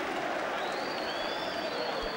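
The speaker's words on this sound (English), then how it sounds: "all around the Trent FM arena, every single person is on their feet applauding" Boxing fans across the Trent FM Arena applaud after Carl Froch's WBC super-middleweight fight against Jean Pascal, a soft, distant and sustained roar of clapping.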